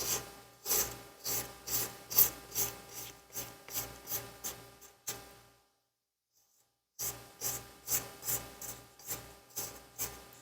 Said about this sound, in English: let me scrape down the sides again